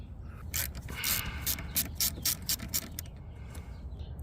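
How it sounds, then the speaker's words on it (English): A ratchet clicks rapidly in a close, even run while backing out a 10mm bolt on a Toyota Camry engine during VVT and PCV work. "So we've got to go ahead and undo this 10mm right there."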